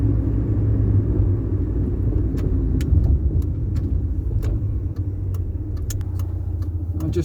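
A classic car, a restored project car on its first drive out, pulls steadily under load, its engine rumbling low and continuous from inside the cabin with faint ticks and road noise throughout.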